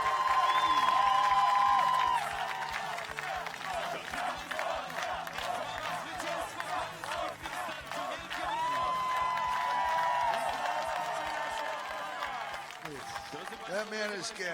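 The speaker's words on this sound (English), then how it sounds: "Poland wins, and the crowd goes wild." Crowd cheering at a Poland versus England 5v5 wrestling final, a loud sustained roar with whistles and shouts filling the arena and a commentator talking over it.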